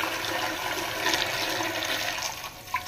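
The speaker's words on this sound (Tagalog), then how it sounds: "So, lagyan natin ng distilled water." Distilled water pours steadily into an autoclave chamber, a continuous bright rushing splash held at even loudness for a few seconds with no talk over it.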